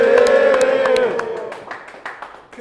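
A battle rap crowd at a league event claps in scattered sharp bursts while a loud voice shouts over them, the cheering thinning out toward the end.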